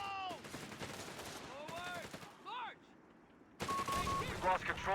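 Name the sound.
machine gun fire in video game Company of Heroes 3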